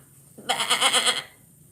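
One sustained goat- or lamb-like bleat, loud and close, wavering in a pulsing vibrato for under a second against a quiet background.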